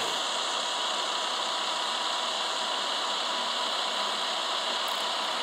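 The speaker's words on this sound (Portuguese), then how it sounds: "Vou andar com o freio do motor ligado" A loaded truck with its engine brake on runs at speed, a steady droning hum with broad roaring road and wind noise that never lets up.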